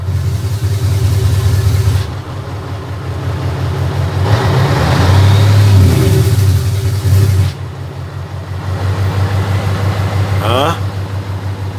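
Non-turbo V8 truck engine with a factory engine brake: a low running rumble swells into a louder, rougher burst midway, then drops back to a steady idle for the last few seconds.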